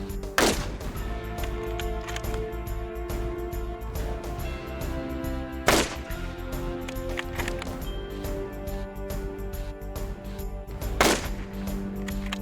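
Accuracy International rifle shots at a shooting center, three sharp cracks spaced several seconds apart over a constant background rumble.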